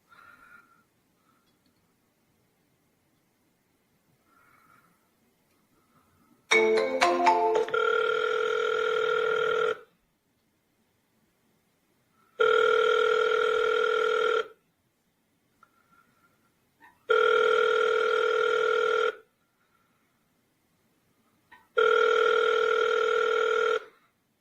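A telephone rings back on an outgoing call, four evenly spaced ring bursts of about two to three seconds each separated by silence, preceded by a short burst of dialing tones.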